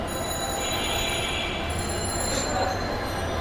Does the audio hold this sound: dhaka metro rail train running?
yes